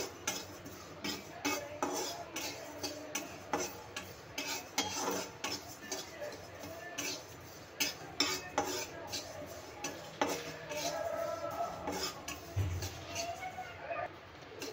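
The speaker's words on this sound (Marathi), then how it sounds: "दोन चमचे तीळ। त्यालाही छान भाजून घ्यायचं आहे।" Sesame seeds dry roasting in a pan rattle under a metal spoon, with quick repeated scraping and clinking strokes close by, fairly faint overall with brief soft voice in the background.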